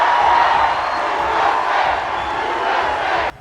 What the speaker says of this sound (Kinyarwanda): bamuhaye amashyi y'urufaya ndetse n'akaruru k'ibyishimo ubwo yarageze imbere muri hoteli byabereyemo